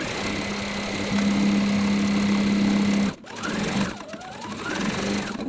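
A sewing machine stitches through a quilted pillow in a loud, steady, high-pitched whir for about three seconds, stops briefly, then runs again in shorter bursts at close range.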